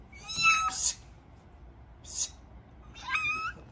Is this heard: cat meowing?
yes